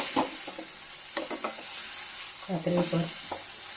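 Bitter gourd fries in onion paste in a pan, a constant hiss of sizzling broken by short scraping strokes of a spatula stirring the mixture, heard close up.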